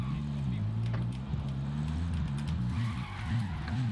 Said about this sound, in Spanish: Voy a coger el coche